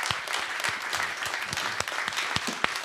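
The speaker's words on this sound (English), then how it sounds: "Let's give a huge round of applause for Adam Back." Audience applause closing a theater talk at a conference, a continuous patter of many hands clapping with a few sharper individual claps standing out, moderately loud and steady throughout.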